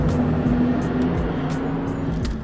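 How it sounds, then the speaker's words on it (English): A garbage truck rumbles past on a road, a low steady engine drone with a deep hum, fairly close and even for a couple of seconds before easing off slightly. "Garbage truck."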